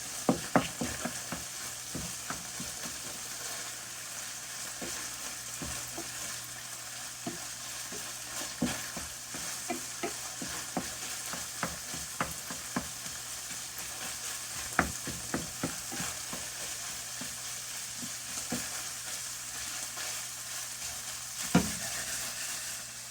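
Pork sausage sizzles steadily in a frying pan while a spoon stirs it, giving repeated sharp scrapes and clicks against the pan, close and clear with no voices.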